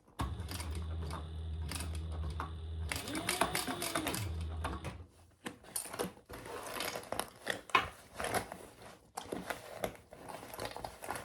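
A Bernina sewing machine stitches through vinyl, giving a close, steady mechanical whir for a few seconds, followed by irregular clicks, taps and handling noises.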